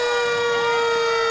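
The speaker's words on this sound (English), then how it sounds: "we got to turn down those sirens" Sirens wail at a July 4th parade in Arnold Mills, a loud steady tone with strong harmonics holding for a moment.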